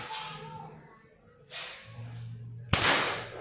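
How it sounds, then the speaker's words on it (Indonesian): An air rifle fires a Hercules pellet at a target 25 meters away, a single sharp, snapping crack that rises suddenly out of a quiet, hissy background. "Ini kita tes menggunakan peluru Hercules jarak tembak ini 25 meter"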